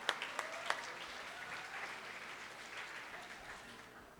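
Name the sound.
audience applause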